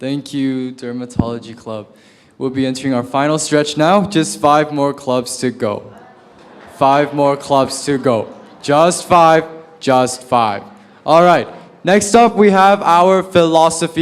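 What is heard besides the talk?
No everyday noise stands out behind the speech.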